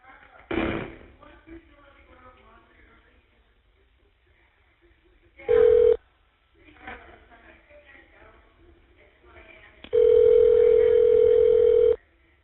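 Over a prepaid Evercom inmate phone line, dialing tones sound: a brief tone, then a longer steady beep, mixed with thumps and a recorded voice talking between them.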